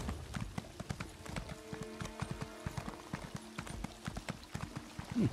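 Steady clip-clop of horse hooves trotting along at an even rhythm in The Elder Scrolls Online, fairly quiet, with a brief snort or whinny near the end.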